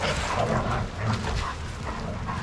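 A lost dog reunited with its owner whimpers and yips. The high, whiny cries come in a continuous excited stream, close and fairly loud, with no speech.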